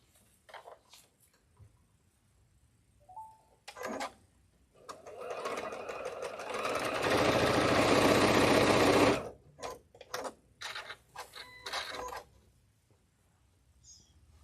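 A sewing machine stitches quilting seams in short runs, with a long steady whirring burst in the middle and scattered brief starts and stops around it, close and fairly quiet, with no talk.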